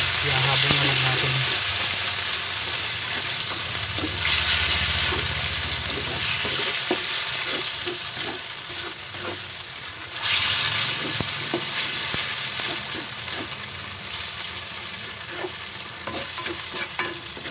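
Ampalaya con carne, bitter melon with meat, fries in a pan with a continuous close sizzle, punctuated by clicks and scrapes of stirring and a few louder bursts of spattering.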